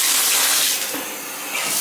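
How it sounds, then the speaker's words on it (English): Water drains with a steady rushing gurgle down a slow bathtub drain that was just cleared by hydro blasting, heard up close and alone at moderate loudness. "It's going down now."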